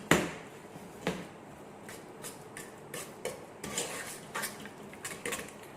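Cream cheese, sugar and flavouring whisked together for a cheesecake, giving irregular clinks and taps of the whisk against the bowl, fairly quiet and close, with no talking.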